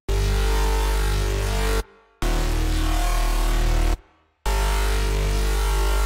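Heavy, distorted synth bass from a Serum preset, built for a hardcore trap beat, plays loud and sustained with dense low-end buzz, cutting out briefly twice in a steady repeating phrase.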